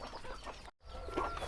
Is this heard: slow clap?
no